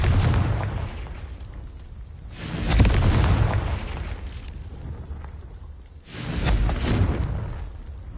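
The Confringo fire spell in the Hogwarts Legacy game bursts into deep, rumbling explosions, two heavy booms several seconds apart with a rolling low roar between them.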